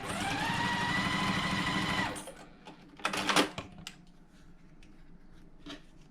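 A sewing machine stitches a teal fabric square between two white rectangles for a quilt block, running in a steady whirring burst for about two seconds, then stopping, followed by a few light handling clicks and rustles.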